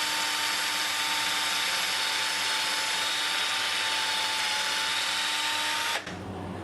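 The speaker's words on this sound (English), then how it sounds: "and then you can just drill it through." A power drill with a metal bit drills through wood, running continuously at high speed for several seconds, loud and close, before stopping abruptly.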